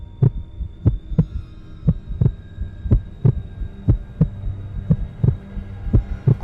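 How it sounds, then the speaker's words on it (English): A muffled heartbeat thumps in slow, regular beats, each a deep low thud, over a faint steady hum and with no other sounds. "the heart beat on with a muffled sound"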